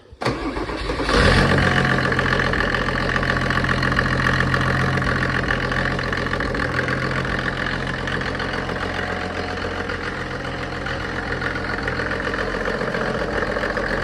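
A Mercedes OM606 3.0-litre diesel engine fitted to a motor pump cranks and fires, then settles into a steady, loud, continuous idle with a deep throbbing hum, running alone without talk.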